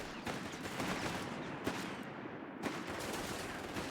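Bursts of machine gun fire in the World War II strategy game Company of Heroes 3, with a rapid, dense, steady rattle lasting several seconds and sharper shots standing out, with no talk over it.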